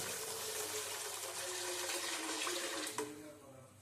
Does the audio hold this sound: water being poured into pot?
yes